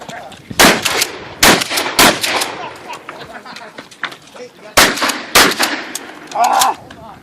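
Shotgun blasts at a USPSA shotgun match, loud and close, fired in quick clusters of several sharp reports separated by brief pauses, with outdoor echo trailing each shot.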